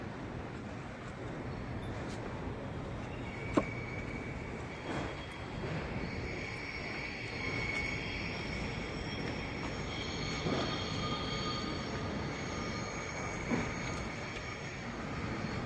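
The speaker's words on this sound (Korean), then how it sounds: "서울역으로 들어오는 기차도 보이고," A train rolls into Seoul Station, heard from an elevated walkway overlooking the tracks as a steady broad rumble with faint wheel squeals and occasional clanks, heavy city ambience around it.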